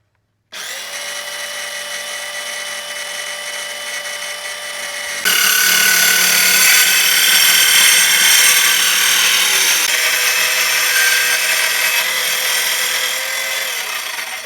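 A power tool whirs steadily, then grows louder and harsher as it bites into material, running continuously close by with no talking.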